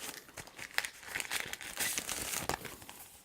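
A small pack of OnePlus stickers is handled close by, with quiet, continuous crinkling and rustling of plastic and paper in short, irregular bursts and no talking.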